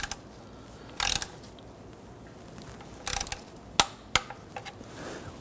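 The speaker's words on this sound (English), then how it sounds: "Go ahead and torque this to 29 foot-pounds." A torque wrench tightens the oil drain plug on a 1992-1996 Toyota Camry with a 2.2L four-cylinder engine, giving short bursts of metallic ratcheting clicks separated by pauses, with a couple of sharper single clicks near the end.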